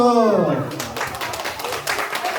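Children's church group clapping during an online elementary worship service, a short burst of applause starting right after a leader's voice and continuing steadily for a couple of seconds.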